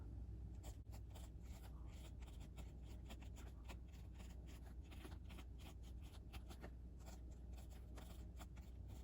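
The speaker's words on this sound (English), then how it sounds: "another quick writing sample here." An ēnsso XS pocket fountain pen filled with Kaweco Smokey Grey ink writes on paper, making faint, close scratchy strokes in a quick, uneven rhythm with no talk.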